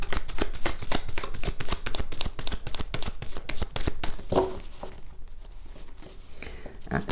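Tarot cards riffle and shuffle in quick rapid bursts, close and fairly loud, the flutter thinning into softer sliding and tapping toward the end.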